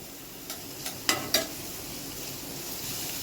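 Finely chopped onion sautéing in oil over high heat, a soft low sizzle punctuated by a few sharp spatula knocks and scrapes against the pan early on.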